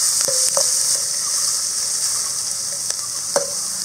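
Onions, green chilies and curry leaves sauté in hot oil with a steady, bright sizzle throughout, broken by a few sharp clinks of a spatula against the pan and no voices.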